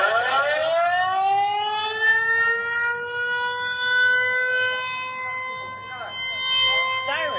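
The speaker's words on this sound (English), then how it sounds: "Sirens went off at exactly 1:30 p.m. local time as the annual Wan'an air raid drills kick off in Taipei." A civil defense air raid siren wails during Taipei's annual Wan'an drill, a loud sustained rising-then-steady tone with rich harmonics, heard close and continuous with faint background activity.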